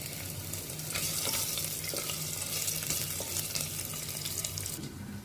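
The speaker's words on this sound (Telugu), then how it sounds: "ఈ నెయ్యిలో ఇప్పుడు మనం ఫస్ట్ అల్లం బాగా ఫ్రై చేసుకోవాలి" Ginger frying in ghee for pappu pongal, a steady bright sizzle with scraping stir clicks from a utensil in the pan, close and fairly loud throughout.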